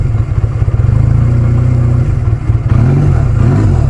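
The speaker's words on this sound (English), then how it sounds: "Good running little bike though," A small motorcycle engine runs loud and close, with a steady, fast thumping beat that briefly shifts and roughens partway through.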